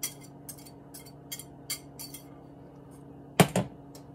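A spoon clinks lightly and unevenly against a bowl while stirring reduced-carb dark chocolate cake batter, with a louder double knock near the end and no talking.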